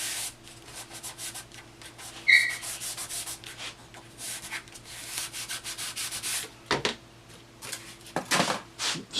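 Paper laid over an inked linoleum block is rubbed down by hand, giving a series of dry, scratchy strokes that swell and fade in an uneven rhythm, close and fairly loud with no talking.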